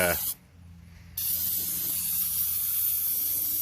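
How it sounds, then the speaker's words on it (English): Carb cleaner jets from an aerosol can into a trailer part in a close, loud continuous hiss, with a short break near the start before the spray resumes and holds steady. "I use carb cleaner, and"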